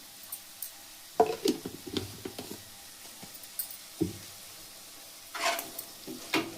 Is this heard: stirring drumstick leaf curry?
yes